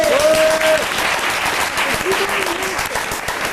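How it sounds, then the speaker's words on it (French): A studio audience at a game show applauds on the host's urging, a dense steady clapping, loud and close, with a couple of brief voiced sounds over it. "j'applaudis encore s'il vous plaît"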